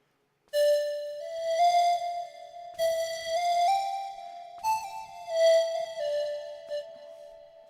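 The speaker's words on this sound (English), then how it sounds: "now we get more of a traditional flute sound." A synthesized flute from Reason's Grain synthesizer in legato mode plays a smooth phrase of connected notes gliding into one another, clear and upfront, with no voices.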